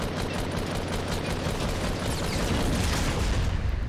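Rapid gunfire erupts in a Fortnite Battle Royale Season 7 match, a dense, loud fusillade of shots and bursts running continuously without pause.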